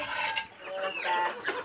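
Hens clucking near a home kitchen, a few short, close, overlapping calls over under two seconds.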